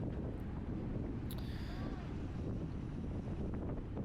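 Steady wind buffeting a microphone during a P/1/2 bike road race at Chain of Lakes, a constant loud low rumble filling the whole stretch with a brief hiss partway through.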